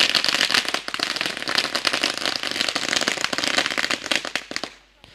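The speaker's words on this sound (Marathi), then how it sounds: "फटाक्यांच्या आतिषबाजीमध्ये स्वागत केलं जात आहे" Firecrackers burst in a dense, rapid crackling barrage to welcome a guest at a local cricket tournament. The loud pops overlap continuously for about five seconds, then fade out abruptly.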